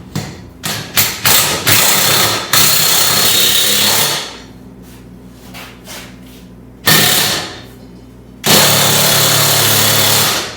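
A puller works a pulley off the blade spindle of a 60-inch Exmark Turf Tracer mower, with loud bursts of an impact tool hammering close by, interrupted by pauses and sustained runs, no speech heard.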